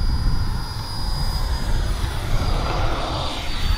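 A Freewing F-22 model jet with a 90mm electric ducted fan taking off on a high-rate run, its steady loud broadband whoosh and whine filling the scene close by, with no talk.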